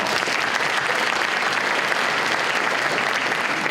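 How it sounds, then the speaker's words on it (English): Dense, sustained applause from a school awards crowd, loud and even throughout, with many hands clapping together and no voices rising above it. "Please give a great applause to my peers"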